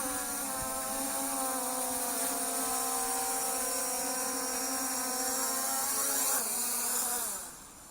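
Aosenma CG035 drone flying with a steady, close, high-pitched multi-rotor whine that holds its pitch, then rises slightly and cuts off quickly as it lands.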